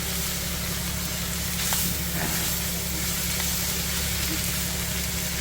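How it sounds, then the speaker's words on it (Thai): Spinach stir-frying in a pan with bacon fat and onion, a steady even sizzle and hiss that runs throughout at constant level, with no voices. "แล้วก็เอามาผัด"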